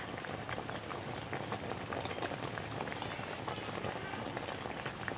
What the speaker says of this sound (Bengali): ডিমের অমলেটগুলো দিয়ে দু তিন মিনিট ধরে ফুটিয়ে নেব